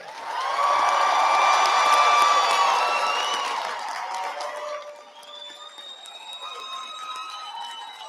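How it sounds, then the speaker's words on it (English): A large crowd at a 2019 high school commencement ceremony cheers and applauds the graduating class, loud and sustained at first with whoops, then thinning into scattered claps and shouts. "Ladies and gentlemen, please applaud the class of 2019."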